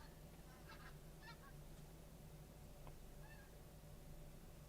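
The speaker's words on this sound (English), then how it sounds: "Pink-footed geese, I believe." Pink-footed geese honk in short scattered calls from a distance in pitch darkness, faint above a steady low hum and background hiss, with a few brief paired honks rising and fading.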